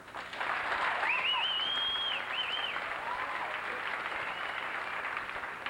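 An audience at a graduation ceremony bursts into sustained applause after a diploma presentation, with a couple of sharp whistles rising above the steady clapping before it gradually thins.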